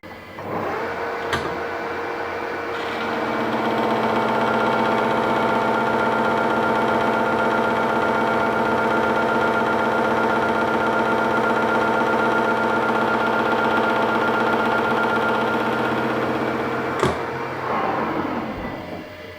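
A milling machine cuts 0.5 mm passes on an INT40 milling arbor at 475 RPM, giving a loud, steady tonal whine with a grinding edge that builds up, holds, then dies away with a click near the end.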